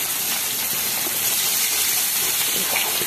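Chopped onion frying in hot oil over an open fire on a windy day gives a loud, steady, unbroken sizzling hiss for the whole stretch.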